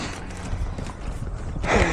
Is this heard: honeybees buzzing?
no